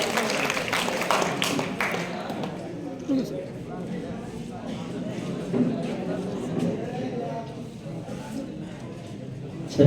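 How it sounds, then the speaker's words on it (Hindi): An audience at an arts coaching centre's results and trophy ceremony in Purnea applauds to welcome the award recipients, a steady, soft, distant wash of clapping under voices and crowd noise. "एक बार जोरदार तालियों से स्वागत कीजिए सबका जहां का"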